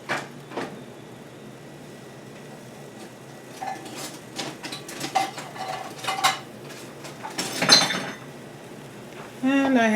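Kale greens stirred in a pan with a wooden spoon, heard as scattered scraping and knocking against the pan that grows busier toward the end, moderately quiet and close, with a voice speaking over parts.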